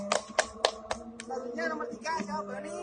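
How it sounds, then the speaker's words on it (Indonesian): Children's hands clapping in an elementary school classroom, a few crisp claps at the start, followed by voices talking and singing. "Terus kasih tepuk tangan untuk Berpija."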